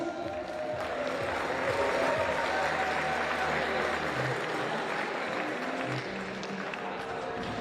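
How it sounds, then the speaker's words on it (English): Crowd applause for young podium finishers at the British Ice Climbing Championships in Sunderland, a steady wash of clapping with a few cheers and scattered voices in a large indoor venue. "Round of applause for these two young lads."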